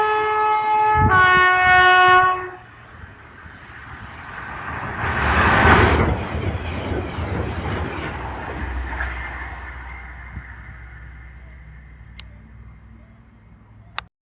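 A train horn blasts twice in bright chords, then a passing train roars up, peaks and fades at trackside on the East Coast Main Line at Thirsk. A fainter, distant rumble lingers afterward.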